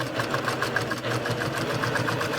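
A sewing machine topstitches a cardigan seam at a longer stitch length with a steady, fast mechanical chatter of evenly pulsing needle strokes over a low motor hum, close and continuous.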